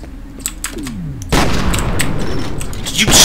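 Shotgun blasts in F.E.A.R. start with a few sharp reports, then a loud heavy burst of fire and rumbling debris that lingers to the end, close and forceful.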